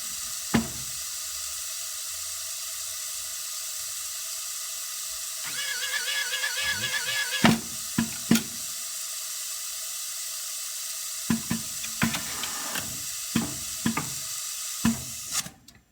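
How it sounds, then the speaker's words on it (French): An automatic machine fills pots, with a steady mechanical hum throughout, a rushing fill sound in the middle, and sharp clicks and clunks from the gripper toward the end. "Remplissage qui va se faire dès le retour en position repos de la pince."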